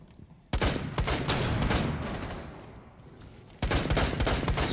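Rapid bursts of gunfire in a Rainbow Six Siege 5v5 multiplayer match, loud and dense, with a brief lull before sustained shooting and a fresh loud burst near the end; no talk.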